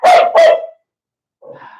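A dog barks loudly indoors in the center of a room, two sharp, close barks in quick succession, then a pause and a softer, shorter yelp.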